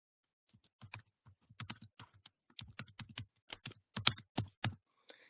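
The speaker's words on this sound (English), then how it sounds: "And then you start typing your story." Quick, irregular clicks of keys being typed on a computer keyboard, close and fairly quiet, in short bursts with small pauses.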